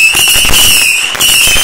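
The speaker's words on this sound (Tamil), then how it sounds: "ராக்கெட் கொளுத்துறாங்க" A firework rocket goes up at Diwali: loud, sustained, high whistling hiss with crackling fizz throughout, close by and filling the whole short moment, no talk over it.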